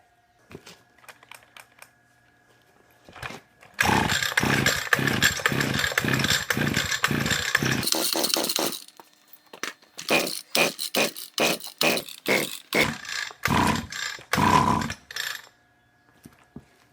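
Echo GT-225 string trimmer two-stroke engine firing up after repair, a loud sputtering start that runs briefly, stops, then comes back as a string of sharp choppy bursts, close by with no talk.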